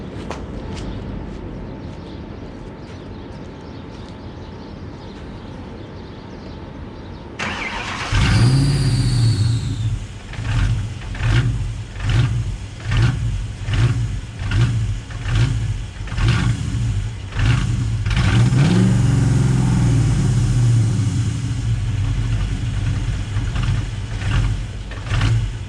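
A built Ford Mustang 5.0 V8 sits quiet, then cranks and catches with a loud cold start, followed by a rough, loping idle broken by repeated throttle blips that rise and fall in waves.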